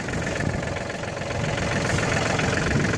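A John Deere 4410 tractor engine runs steadily at about 1500 RPM, a continuous close diesel rumble with a slight knocking texture and mild rise in loudness toward the end, no talk over it.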